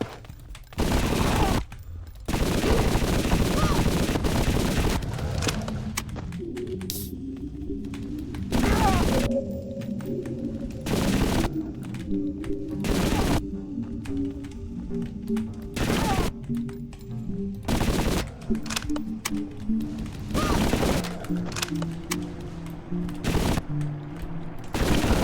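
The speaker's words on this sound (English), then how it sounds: "This might be my new favorite machine SMG ever." SMG fire in a video game comes in loud, close bursts, rapid rattling volleys repeating at short intervals with brief gaps between them, and someone talks between the bursts.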